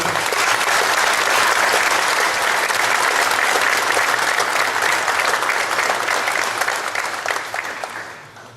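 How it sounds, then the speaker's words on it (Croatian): Sustained applause from an audience at a Croatian Democratic Union (HDZ) anniversary celebration in Novi Zagreb, honoring Croatian generals and the first president; dense, steady clapping throughout that tapers off toward the end. "molim vas da im još jednom pljeskom zahvalimo"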